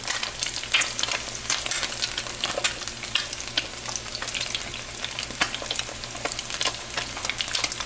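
Eggs frying in a pan for breakfast, a steady close crackling sizzle with dense spitting pops throughout, alone without voices.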